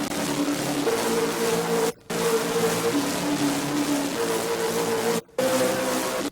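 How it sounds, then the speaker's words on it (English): Serum synth bass preset called Bass Death in a type beat: a gritty, buzzing, distorted bass tone with sliding pitch, sustained in long phrases broken by two short silent gaps. "So this bass is called Bass Death."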